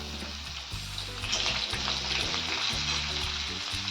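Cumin, mustard seeds, a pinch of asafoetida and curry leaves sizzle steadily in hot oil for a Marathi festive meal, a dense continuous crackle close by that swells slightly midway, with no voices.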